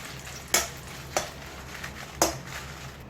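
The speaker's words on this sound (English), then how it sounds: "I'm adding half a tablespoon of oil and I'm roasting the red chilies now." Red chilies roasting in about half a tablespoon of oil in a pan for gongura pickle, with three sharp utensil scrapes or stirs over a low, steady sizzle.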